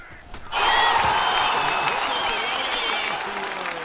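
Canned crowd applause from a stream sound plugin bursts in suddenly and holds as dense, loud clapping with faint cheers, tapering slightly toward the end.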